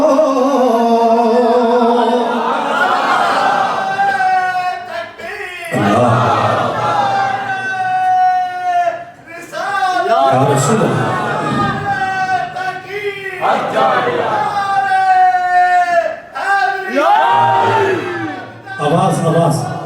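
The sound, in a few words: congregation shouting slogans in response to a chant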